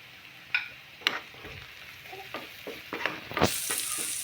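Curry leaves with onions, ginger, garlic and green chillies frying in oil for egg bhurji, a close sizzle with spoon scrapes, swelling into a louder hiss near the end.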